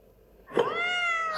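A single clear cat meow from a video game rises and holds its pitch, close and moderately loud, heard alone against a quiet background.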